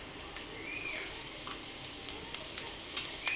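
Peanuts frying in a pan with turmeric for idli upma, a steady close sizzle with occasional stirring scrapes and light taps, quiet and continuous.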